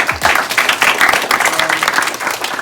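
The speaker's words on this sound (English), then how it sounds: "You deserve a round of applause for yourselves" An audience gives a brisk round of applause, a dense, even patter of many hands clapping together for a couple of seconds, fairly close and loud.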